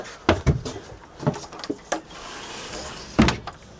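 The cabin door of a Nissan Sunfisher 780 boat is handled and shut, giving a few heavy thumps and clunks, with a final solid closing knock near the end; close by, no talk.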